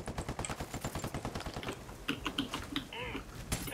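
Rapid bursts of gunfire hitting the player in the video game Ghost Recon, a dense rattling volley over the first second and a half, then scattered sharper shots and electronic tones closer by.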